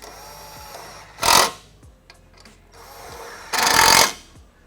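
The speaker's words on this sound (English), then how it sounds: "then we can tighten the bolts" Two short bursts of a power tool tightening bolts on an intercooler pump on a 2011-2014 Mustang GT, each lasting about half a second, close and fairly loud, with quiet shop background between them.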